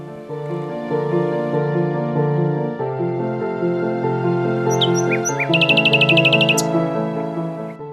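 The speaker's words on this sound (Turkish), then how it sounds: "Kuşlar yoldaşınızdır burada." High, quick bird chirps flutter in the second half, over a loud, sustained harmonic tone that dominates throughout, on the Anadolu Feneri forest road in Beykoz, Istanbul.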